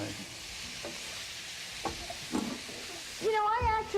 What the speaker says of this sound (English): Keep stirring it.